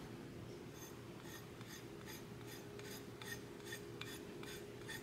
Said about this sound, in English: I take one color that I like, and then I just scrape a bit off.